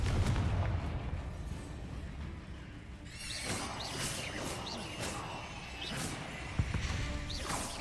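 Repeated blasts of a Confringo fire spell in a Wizarding World video game, heavy booming bursts and crashing impacts over a dense rumbling battle backdrop, with sharp whooshing flares layered on top.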